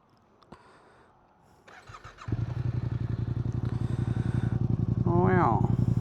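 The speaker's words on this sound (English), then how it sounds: "Let's do a little sound check," A Yamaha R7 motorcycle fitted with a TST fender eliminator kit cranks and fires up after a few clicks, settling into a loud, close, steady idle with a brief voice heard over the engine near the end.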